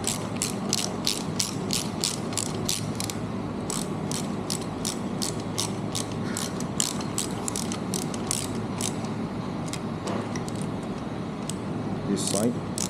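The bottom of a Speedghoul installation is tightened with a ratchet, giving quick runs of sharp, close clicks in repeated bursts with brief pauses, over a low background hum.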